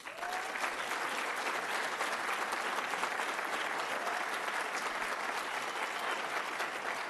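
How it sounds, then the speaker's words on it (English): A graduation ceremony audience for the Class of 2024 claps loudly and continuously for honored faculty, a thick, unbroken roar of hands filling the hall from start to finish. "I request you to please clap for them as loud as you can"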